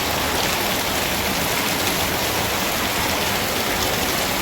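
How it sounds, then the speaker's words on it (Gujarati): Heavy monsoon rain pours in Surat, a steady, dense roar of falling water on surfaces that stays constant and loud, with no voices. "વરસાદ હમણાં સારો પડે છે"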